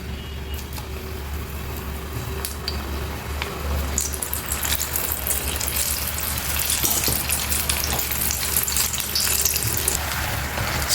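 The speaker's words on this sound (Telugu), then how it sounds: "ఆయిల్ కాగిందో లేదు చూద్దామండి కాగిపోయింది మనం ఇప్పుడు ఇందులో ఒక్కొక్కటి ఇలా వేసేసేయండి" Chickpea pakoras dropped one by one into hot oil in a kadai, the frying swelling into a loud, dense, bubbling hiss that keeps building.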